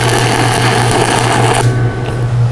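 Stick arc welding with an Everlast 160STH welder, giving a steady loud crackling buzz over a constant electrical hum that thins out near the end.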